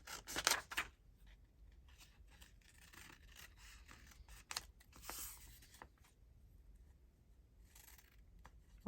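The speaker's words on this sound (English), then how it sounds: "So let's just cut it out." Scissors snipping through a book page for a paper craft writing bundle, a few quiet close cuts with soft paper rustles between them, no talk.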